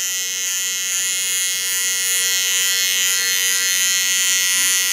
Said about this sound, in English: Get to my little clipper again.